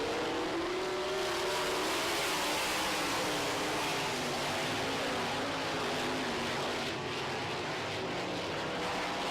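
NOSA sprint cars race around a track, their engines blending into a steady, loud roar that holds without a break.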